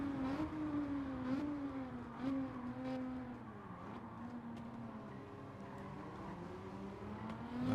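A race car engine in Gran Turismo 7 holds a steady, loud, humming drone that rises and falls slightly with throttle and gear shifts, continuous throughout with no talking.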